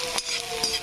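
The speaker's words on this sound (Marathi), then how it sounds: "छान असा कांदा भाजू द्यायचा आहे आपल्याला" Onions fry in a pan for a potato bhaji while a spatula stirs them, giving two quick scraping strokes over a soft steady sizzle.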